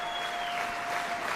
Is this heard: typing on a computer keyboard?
no